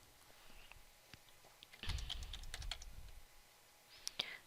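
Faint, sparse keystrokes on a computer keyboard, a few scattered clicks followed by a brief denser burst of typing, close and quiet with no talking.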